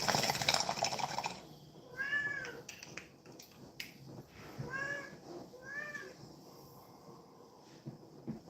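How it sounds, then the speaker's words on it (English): Cat meowing three times in short, close calls after a loud burst of rustling noise at the start, with faint clicks and background hiss between the meows. "That's my stoner cat"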